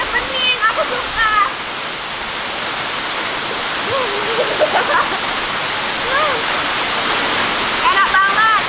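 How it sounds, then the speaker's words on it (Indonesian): Jagasatru waterfall in Bali with a modest flow of clear water, a steady loud roar of falling water close by, with a person's voice talking over it. "di belakang aku tuh air terjun"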